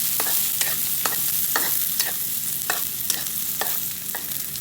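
Onions sauté in a hot pan for tuna sisig: a bright, even sizzle carries rhythmic scraping stir strokes about every half second, close and fairly loud, with no voices.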